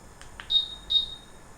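Two short high electronic beeps from a Honda PCX scooter's anti-theft alarm sound in quick succession after a couple of faint clicks, fairly near against a quiet background.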